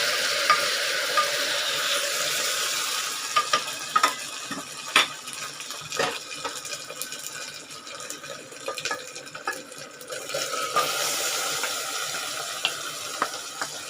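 Marinated mutton sautés in a pan for mutton gravy, a loud continuous sizzle and hiss with frequent scraping clicks of a spatula stirring, close up and with no talking.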